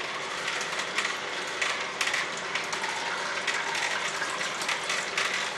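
Omega VRT 330 vertical juicer pressing grapes, a steady whirring motor with dense rattling and clicking mechanical texture and irregular crackles, continuous and close with no talk.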